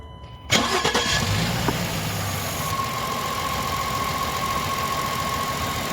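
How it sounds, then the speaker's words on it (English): 2020 Ford Transit engine cranking briefly and catching at once, then settling into a steady, even idle, heard close and moderately loud with no talk. "I'm going to get you a startup"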